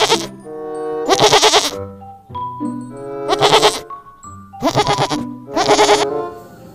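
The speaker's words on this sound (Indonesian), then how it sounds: "ini binatang kambing" A goat bleats loudly and repeatedly nearby, four or five drawn-out quavering calls with short pauses between them.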